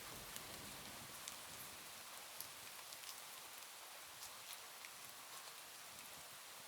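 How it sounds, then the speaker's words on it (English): Soft rain falls steadily, a faint, even hiss with scattered tiny drop ticks and no voices. "In the background, you will hear soft rain and thunder to help you relax."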